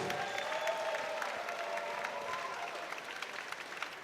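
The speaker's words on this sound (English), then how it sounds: "please give these two fighters, as well as all of the fighters this evening, a huge round of applause" Applause for the fighters fills a boxing event hall, a dense, sustained clapping from the crowd that stays fairly even and slowly thins toward the end.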